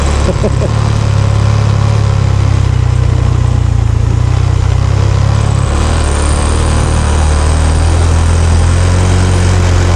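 Motorcycle engine droning steadily while riding on the way to a farm and waterfall in Liliw, Laguna, a loud continuous low hum close by with a slight drop in pitch partway through, no voices.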